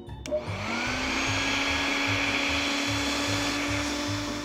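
An electric air pump inflating a Minnidip inflatable pool starts with a click, then spins up into a steady, loud whirring drone that holds for several seconds, close by and without speech.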